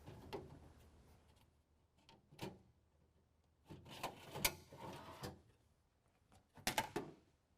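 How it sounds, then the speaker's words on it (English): Drawers sliding back into a Taylor wing wheel well toolbox in a truck bed, heard as faint scattered rubbing, knocks and clacks with a few sharper bangs near the end. "now go ahead and slide the drawers back in."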